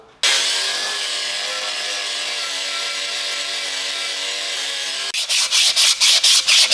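Old brake drums being sanded, a long steady rasping hiss that runs unbroken for about five seconds, then six or seven quick rhythmic strokes, close and loud, with no voices.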